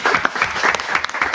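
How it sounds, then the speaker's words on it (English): A crowd applauds steadily after a talk on the Libyan conflict, dense clapping filling the room at a fairly loud, constant level. "Round of applause."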